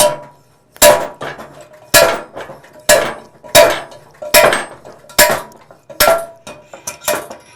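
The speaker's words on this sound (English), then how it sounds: "Use the slide hammer to pull the old capsule out." A slide hammer strikes sharply again and again to pull an old capsule from a 4L60E transmission, about nine loud metallic clanks at a steady, slightly quickening rhythm, each ringing briefly before the next.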